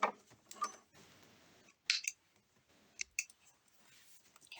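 A few quick, crisp snips of scissors cutting thread, close and sharp, separated by brief quiet pauses.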